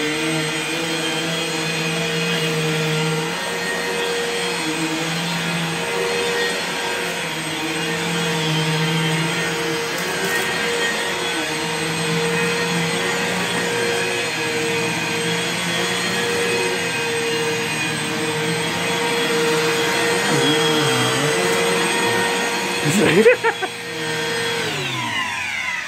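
A 2003 Bissell CleanView PowerTrak upright vacuum cleaner runs close by with a steady, loud whining motor drone that holds for the whole stretch, ending in a brief bump and a shift in pitch near the end.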